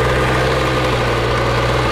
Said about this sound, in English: prepare your ears, ladies and gentlemen, we will be starting this harvester